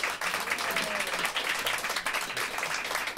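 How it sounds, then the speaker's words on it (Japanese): A live-music audience gives a steady round of hearty applause after a performance with chorus harmonies, a continuous dense clatter of many hands that stays even throughout. "もう一度盛大な拍手を。"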